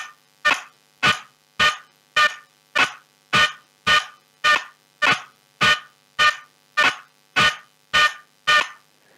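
A looping DJ scratch sample chopped by a controller crossfader into about sixteen sharp, evenly spaced honking bursts, each with a clean attack and a brief decay, steady rhythm, loud and alone.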